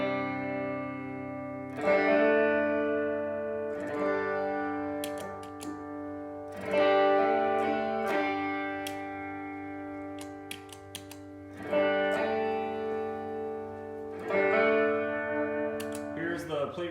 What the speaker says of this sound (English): So here's the trem on the Hydra.